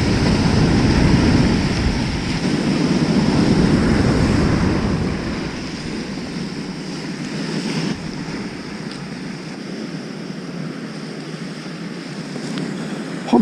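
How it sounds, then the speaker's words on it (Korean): Surf on the sandy shore of Yeongjin Beach in Gangneung on the East Sea, heard during winter surf fishing, as a loud continuous wash of breaking waves mixed with wind noise. The roar is strongest early and then settles to a steadier hiss. "와 진짜 저 멀리서 오는 파도 좀 보세요."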